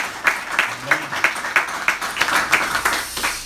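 A church congregation at a Korean Wednesday early-morning prayer service claps together in a brief, fairly rhythmic burst of distinct, evenly spaced hand claps, moderately loud.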